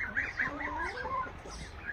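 Hens and roosters in a village henhouse give restless clucks and short calls nearby, a rapid string of rising and falling notes over two seconds with no speech.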